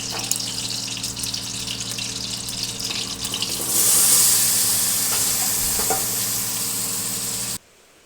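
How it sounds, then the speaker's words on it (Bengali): Potatoes fry in oil in a kadai, a steady sizzle with light stirring that swells louder midway as food hits the hot oil, then cuts off abruptly near the end. "কড়াইয়ে তেল দিয়ে আলুগুলো প্রথমে ভেজে নেব।"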